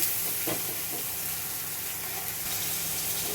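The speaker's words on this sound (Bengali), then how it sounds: "আমি আগে মশলাগুলো ভেজে নিচ্ছি।" Whole spices sizzling in hot oil in a pan, a steady, dense frying hiss that stays even throughout, with no talking.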